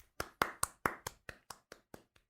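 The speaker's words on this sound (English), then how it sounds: "Applause." About a dozen sharp hand claps from a single person ring out in a slow, steady rhythm, close and distinct with short gaps between them, gradually growing softer toward the end.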